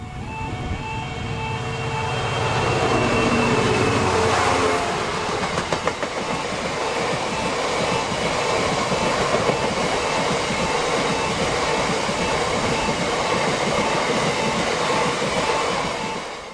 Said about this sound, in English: 66430 heads a ballast working from Redcar Mineral Terminal to Tyne Yard.